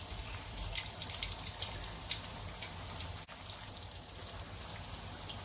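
Onion and potato pakoras sizzle in hot oil, a steady, dense crackling hiss that holds evenly throughout with a brief dip near the end; no talking.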